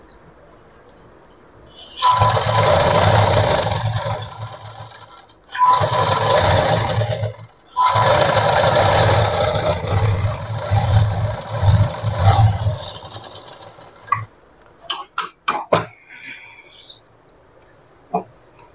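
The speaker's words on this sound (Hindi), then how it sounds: "आ मझिरे याको सिलाई करबा" A sewing machine stitches folded petticoat fabric in three long, loud runs of rapid needle chatter. Quieter clattering and scattered clicks follow as the machine stops and the cloth is handled.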